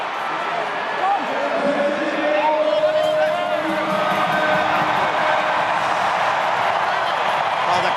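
A rugby stadium crowd at an All Blacks versus Wallabies Bledisloe Cup match swells into loud, sustained cheering and roaring, with commentators talking over it.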